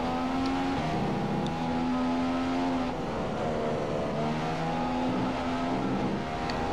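Formula 1 race cars in the F1 2015 video game at the Hungary circuit, engines whining steadily at high pitch with gear shifts and shifting tones as cars hold close together, continuous and loud with no talk.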